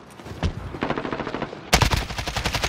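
Bursts of AK-47 assault rifle fire in Call of Duty: Modern Warfare, loud and close, with rapid automatic shots; a short volley is followed by a louder, sustained stream of fire.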